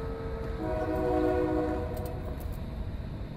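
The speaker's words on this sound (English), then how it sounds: "Trains coming through all the time." A passing train sounds its horn in a sustained tonal blast over a steady rumbling roar, loud and continuous throughout.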